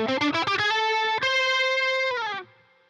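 An electric guitar run through distortion and effects plays a short phrase without tremolo picking: quick picked notes, then a long sustained note that slides and fades, loud and close.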